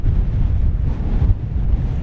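Strong wind buffets the open air around a small DJI Mini 4K drone in flight, a steady, loud low rumble of gusts pressing on the microphone with brief swells and no voices.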